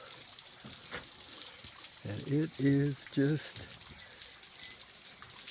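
Water trickles and rushes steadily on a waterfall trail at Tonto Natural Bridge, a constant wash of sound under a voice in the middle.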